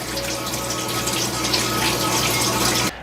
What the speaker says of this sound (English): This pump lifts water up to the top and then it just trickles it down the entire garden.